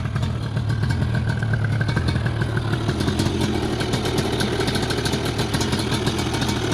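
Yamaha Banshee 350 ATV two-stroke engine idling close by with a steady rough, buzzy rattle and slight uneven pulsing, running alone without talk.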